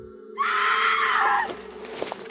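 A loud, sustained high-pitched scream rings out for about a second, then fades into quieter rustling and a few soft knocks, with a faint low hum beneath.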